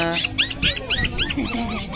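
A pedigree dog at a busy pet market gives a series of short growling, whining yelps, several rapid bursts close by with little talk around.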